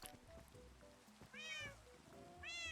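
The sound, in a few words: cats meowing in Minecraft video game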